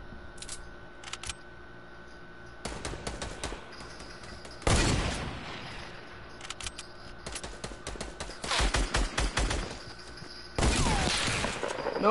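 Sniper rifle shots in a PS4 shooter game ring out as several loud, sharp blasts spaced across the stretch, with bursts of rapid fire between them over a steady game background.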